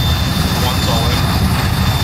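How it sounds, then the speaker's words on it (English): An Arma 3 helicopter gives a loud, steady, close rotor-and-engine roar that fills the whole moment without a break. "Chopper, I want you to take off real quick and just fucking hover."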